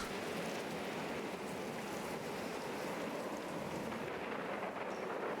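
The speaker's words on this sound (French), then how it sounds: "Allez, retour à la tempête." Storm in the video game Life is Strange: steady heavy rain and roaring wind form a dense, continuous wash of noise, loud and unbroken throughout with no voices.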